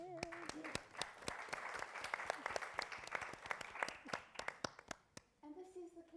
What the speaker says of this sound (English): I think you all deserve a good hand of applause